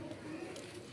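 A red pigeon coos softly and repeatedly at close range, with a faint background murmur.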